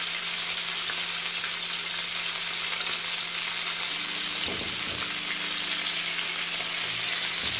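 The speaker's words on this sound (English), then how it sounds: "put in auto position so that it all fries properly on the inside as well" Fish frying in a pan of hot oil gives a steady, dense sizzle that holds evenly throughout, close up and without speech.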